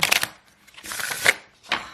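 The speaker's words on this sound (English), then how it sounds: "I've been using it, shuffling it, any type of shuffling it" Tarot cards on thin cardstock are shuffled in three quick riffling bursts with short quiet gaps between them, close and fairly loud.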